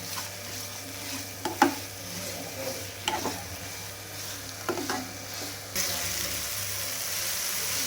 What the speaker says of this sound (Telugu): ఇప్పుడు ఒక 1 మినిట్ దీన్ని ఫ్రై చేస్తాం.